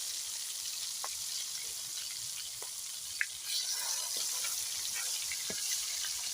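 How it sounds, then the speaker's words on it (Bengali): Rohu fish frying in a pan gives a steady broad hiss of hot oil throughout, with scattered small pops and crackles and one sharper snap near the middle, close and fairly loud with no talking. "আমার আম্মু এখন মাছ ভাজছে"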